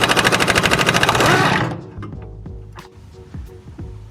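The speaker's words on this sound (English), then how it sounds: "put the impact on it to break them loose" An impact wrench loosening the lower nut on a rear sway bar end link of an Infiniti G37 rattles loudly in a rapid hammering burst for over a second, then stops, followed by a few clicks and clanks of tools.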